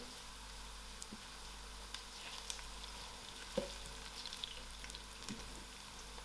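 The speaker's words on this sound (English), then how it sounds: "I'm going to break my dry chilies and put it into the oil" Dry chilies and spices frying in oil, heard as a soft, steady sizzle over a low hum with a few faint clicks and stirring taps.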